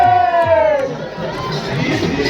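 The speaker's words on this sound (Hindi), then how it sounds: "भक्तों की इतनी भीड़ कि गंगा आरती तो छोड़ो, गंगा मैया के दर्शन मुश्किल से हो पा रहे थे" Large crowd of devotees at the Ganga Aarti on the riverbank in Varanasi, a dense steady wash of many voices and chatter with a few louder shouts rising over it, close and continuous throughout.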